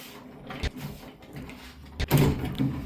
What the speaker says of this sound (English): and then the drawer should come out